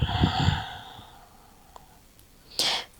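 A single breath during a calm hip-focused yoga exercise: after a brief hum of voice at the start, a soft, close exhale rushes out near the end over a quiet room.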